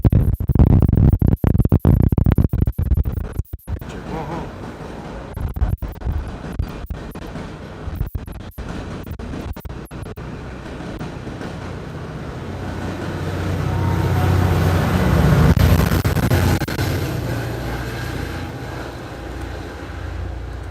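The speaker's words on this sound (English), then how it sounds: "Watch this train real quick" A train passes near the Santa Clara tower, a loud rumbling roar that drops out in patches early, then swells again into a heavy, continuous rolling drone with no talking.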